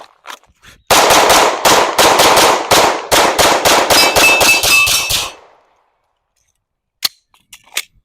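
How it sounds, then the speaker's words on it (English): A rapid string of about fifteen loud, sharp gunshots from a Glock 45 pistol, fired in quick succession at close range over roughly four seconds, followed by quiet and a few faint clicks. "But I want to shoot with it and see how quick I am with it."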